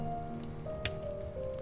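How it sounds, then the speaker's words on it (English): Rain falls steadily in the video game A Story Beside, a soft constant patter under sustained musical tones, with a single sharper drop or tap near the middle. "This rain never stops"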